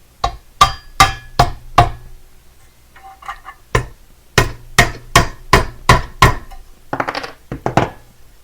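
Sharp metallic taps strike a satellite dish as a universal folding LNB arm clamp is knocked into place: a quick run of four hits, a pause with faint handling, then a second rapid series of close, crisp knocks.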